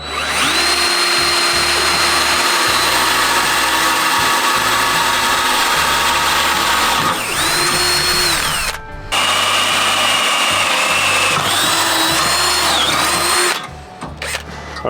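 A drill bores steadily through material with a bit, mounted as a skid steer attachment, its loud whine running almost continuously, briefly pausing and restarting twice with pitch dips as the load changes.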